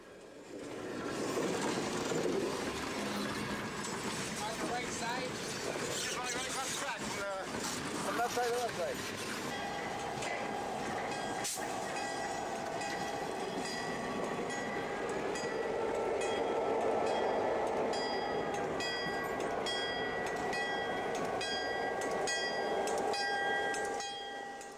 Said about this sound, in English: the Canadian National Local is backing onto the interchange track.